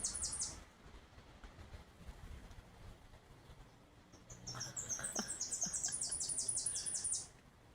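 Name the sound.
bird calling outdoors after rain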